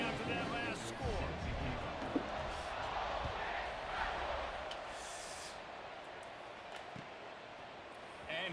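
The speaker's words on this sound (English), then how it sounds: "this crowd is buzzing after that last score" Football stadium crowd at an ASU versus Ole Miss game buzzing after a score, a broad roaring murmur of many voices that swells and holds, with a commentator talking over it.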